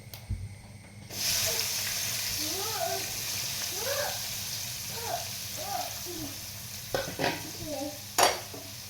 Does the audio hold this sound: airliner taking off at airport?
no